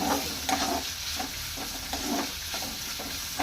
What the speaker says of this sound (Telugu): ఆనియన్స్ వేగుతున్నాయి కదా